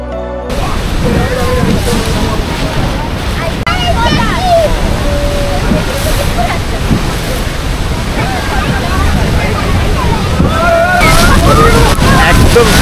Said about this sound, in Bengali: এই বোটটা একদম রাইন ফলসের সামনে নিয়ে যাবে।